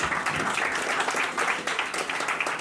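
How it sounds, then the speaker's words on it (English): A live audience at a music-tech event applauds a partner being thanked, steady dense clapping that holds evenly throughout the short stretch, fairly close and full. "So I want to give her a round of applause."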